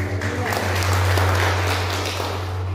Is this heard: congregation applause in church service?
yes